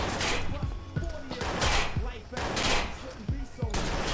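Gunfire in the Watch Dogs video game cracks in a rapid, steady string of shots throughout, loud and close, while players talk over it.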